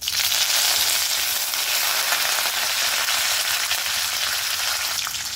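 Curry leaves sizzling in hot oil with mustard seeds and lentils while tempering for chitranna mixed rice, a steady bright crackling hiss that stays loud and even throughout.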